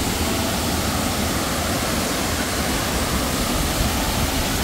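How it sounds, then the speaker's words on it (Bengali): Water from Mawsawa falls flows over mossy stones, making a loud, steady, close rushing roar that fills the scene without a break. "পুরো জলটা বয়ে যাচ্ছে সামনের দিকে এরকম কুলকুল কুলকুল করে"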